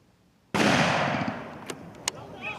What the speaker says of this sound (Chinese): 庆声炮声隆隆叫，